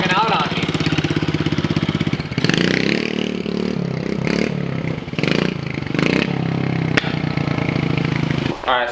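A pit bike engine runs rough and bogs out, a loud close rattling idle that sputters and dips in uneven surges before picking back up.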